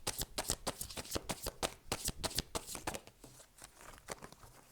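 A deck of Dixit cards being handled and shuffled at close range, a rapid run of crisp riffling slaps and flicks that loosens into softer, sparser card sounds near the end, with no talking.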